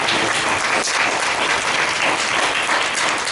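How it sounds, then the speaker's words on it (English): An audience at a Muslim annual convention applauds a discussion panel, a dense, steady round of clapping that fills the whole stretch at full strength with no voices. "if we just have a round of applause for our panel"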